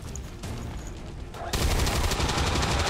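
Gunfire in the modded video game XCOM 2 erupts as a sudden loud burst of shots partway through, following a quieter stretch of background game ambience.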